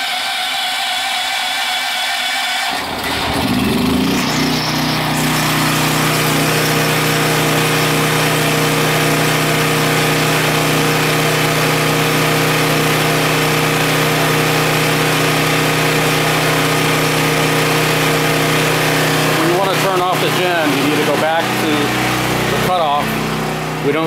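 A Westinghouse WH7000EC portable generator converted to natural gas cranks briefly, then catches and runs at a loud, steady idle with a constant hum for about twenty seconds, with a short clattering burst near the end.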